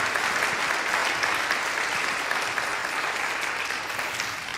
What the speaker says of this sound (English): Let's give them a big round of applause, and we'll send them off back to their seats.